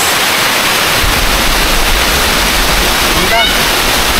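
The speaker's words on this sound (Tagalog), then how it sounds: "Meron din pala ditong falls." A waterfall roars loud and steady in the Philippine countryside, a dense unbroken rush close by, with a voice briefly heard over it.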